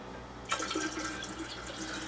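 Filtered water from a refrigerator dispenser pours into a container for sweet tea, a steady splashing trickle that starts abruptly and carries on close by.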